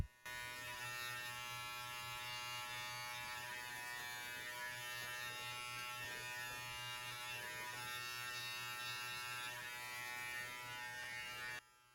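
Electric hair clippers fitted with a number 1 guard, fully open, cutting during a self-fade at the back of the head, a steady close buzzing hum running throughout.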